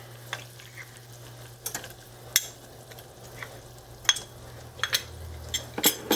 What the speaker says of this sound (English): And whisk it in.